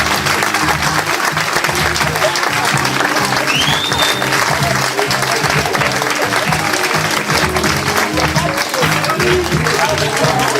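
An audience applauds the candidates at a French employee-day event, sustained dense clapping that fills the whole stretch without a break, with voices faintly mixed in.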